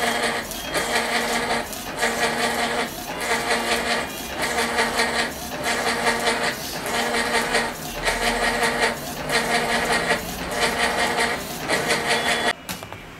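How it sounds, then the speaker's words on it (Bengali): Barcode label printer running a test page: a loud, close mechanical whir that repeats in regular pulses about once a second, steady for the whole stretch before stopping abruptly near the end. "দেখতে পাচ্ছেন এটাতে এখন সেই PTT পেপারের পেজটি বের হচ্ছে"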